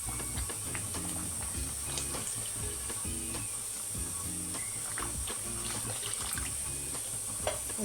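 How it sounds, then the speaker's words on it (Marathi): Water pouring steadily into a pan of Malvani surmai fish curry with coconut masala, a continuous close splashing stream with faint clinks, heard alone without talk. "आणि आता ह्याच्यामध्ये मी पाणी घालते।"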